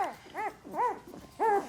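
A Bernese Mountain Dog puppy whimpers close by in a series of short, high, rising-and-falling whines, three or four cries spaced over a couple of seconds at a soft-to-moderate level.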